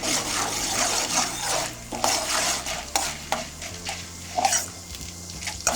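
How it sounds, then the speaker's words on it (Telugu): Chana dal frying in hot tempering oil for a besan curry, with a steady close sizzle and scraping stirring strokes throughout, no voices. "శనగపప్పు మామూలు తాలింపులో వేసేదానికంటే కూడా"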